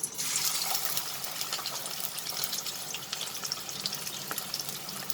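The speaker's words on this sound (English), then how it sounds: "Once the oil is heated, we will add the bitter gourd." Bitter gourd (karela) pieces deep frying in hot oil give a soft, steady bubbling sizzle with fine crackles throughout, fairly quiet and unbroken.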